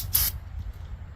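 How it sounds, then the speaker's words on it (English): A short burst of spray hisses onto a Husqvarna Z254 zero-turn mower engine, soaked with fuel after a PTO clutch replacement, for about a quarter second, loud and close, then fading into a low background rumble. "just spray that off."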